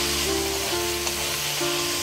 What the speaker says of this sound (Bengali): এই সময় আমি দিয়ে দেব বেটে রাখা আদা